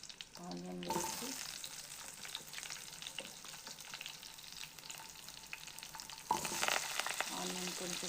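Onion fries in oil in a pan for a paneer curry, a constant close sizzle running throughout, with brief scraping stirs at the start and a louder burst near the end.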